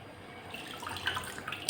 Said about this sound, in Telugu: ఇది సెకండ్ టైం మీకు చూపించేదానికి కడుగుతున్నాను అంతే